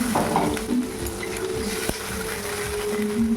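Water poured into a pan of frying mourala fish curry, a sharp sizzle and hiss alongside scraping stirring and a few clinks of the pan, fairly close and continuous, with no talking.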